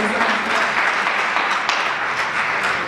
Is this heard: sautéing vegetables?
no